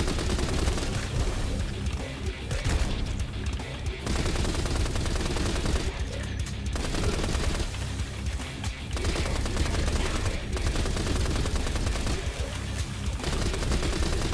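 An M4A1 rifle in Nightmare Reaper fires in long, dense, rapid bursts of loud gunfire, almost continuous with short pauses, alongside other game noise and occasional talk.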